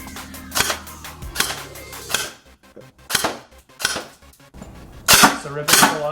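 Airsoft sniper rifle fired on semi-auto, a series of sharp separate snapping shots spaced irregularly, close and loud, with short quiet gaps between them and a small mechanical rattle.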